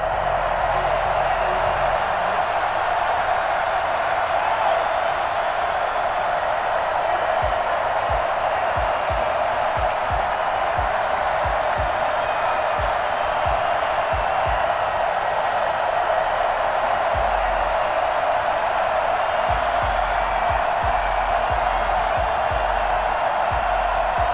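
Stadium crowd in Madden 21 for a Buccaneers game in the nation's capital, a constant dense roar of cheering fans sustained throughout, with soft low thumps beneath.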